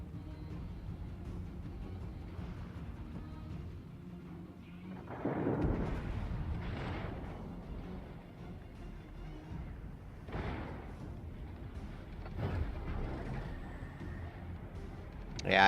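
Heavy warship guns firing in World of Warships, several deep booming salvos spaced a few seconds apart over a low rumbling naval battle ambience.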